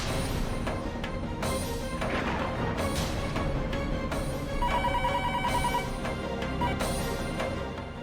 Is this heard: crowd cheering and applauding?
no